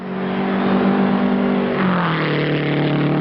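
A 1960 race car at a Grand Prix circuit accelerates at near record speed, its loud engine droning steadily then dropping in pitch as it pulls away down the front stretch.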